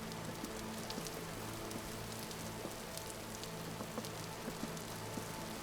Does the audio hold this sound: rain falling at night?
yes